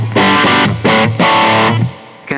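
A distorted electric guitar plays through a Hughes & Kettner Black Spirit 200 amp head with reverb turned all the way up: three loud sustained chord stabs, each leaving a washy tail, before a fresh attack at the end.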